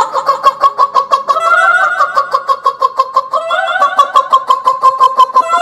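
A voice mimics jungle fowl with a rapid series of harsh, rhythmic clucking calls, close and loud, repeating steadily throughout with rising crowing tones.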